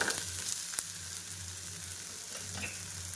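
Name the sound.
jowar dosa sizzling in oil on a pan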